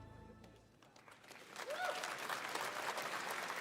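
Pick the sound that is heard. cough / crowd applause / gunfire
crowd applause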